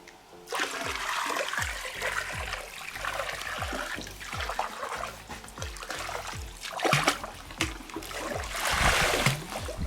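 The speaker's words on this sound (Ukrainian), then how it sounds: "Готову речовину розливаємо по периметру всього басейну потрішки." A pH-minus chemical solution is poured around the edge of a home swimming pool, producing continuous splashing and trickling water with repeated gushes, fairly close and steady throughout, with no voices.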